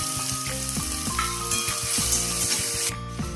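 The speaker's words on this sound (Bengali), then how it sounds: "আমার ফোড়নের সব ভাজা হয়ে গেছে" Steady, loud sizzling of black cumin, dried chillies, chopped garlic and onion frying in hot oil, with occasional stirring scrapes, no voices.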